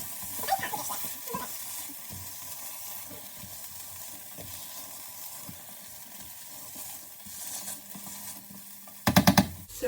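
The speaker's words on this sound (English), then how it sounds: "So we're going to start to mash this now." Black beans and onions mashed in a sizzling pan, with soft scraping stirs and squishes over a constant frying hiss, ending in a burst of loud clattering scrapes.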